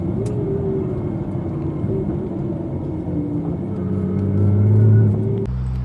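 Long-distance bus cruising on a smooth motorway between France and Bosnia, a steady low engine and road rumble inside the cabin that swells slightly near the end, with no voices.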